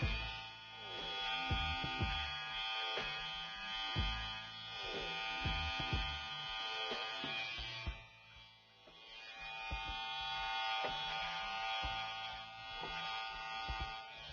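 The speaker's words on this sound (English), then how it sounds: "If you're wondering what trimmer I'm using, this is the Andis Slimline Pro." An Andis Slimline Pro electric trimmer cutting hair gives a steady, fairly quiet buzzing hum with a brief dip in the middle. No one speaks over it.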